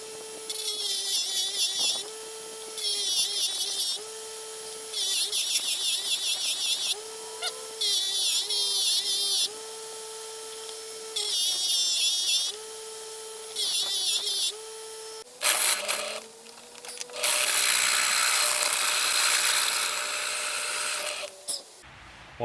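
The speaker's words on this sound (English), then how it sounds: "That drill's making a lot of noise because it's blunt as" A freshly sharpened power drill bores into metal in repeated high whining bursts separated by pauses, with a lower motor hum beneath and a louder, rougher stretch near the end.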